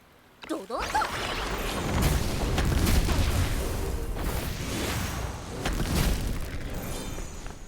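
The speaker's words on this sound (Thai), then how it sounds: "ดูซิว่าแผนของการของเราระเบิดสองลูกเนี่ย มันทำให้ บอสและมอนตายหรือเปล่านะครับ" Two bombs detonate on a boss in the Sword of Convallaria video game: a whoosh comes first, then heavy layered booms and crackling blasts that swell and return through the whole stretch.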